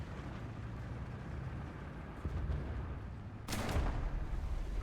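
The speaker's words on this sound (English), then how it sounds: "I hear some shooting occurring." Faint, distant shooting and artillery rumble from a tank battle game featuring the Jagdpanther G1, ending in one louder boom near the end.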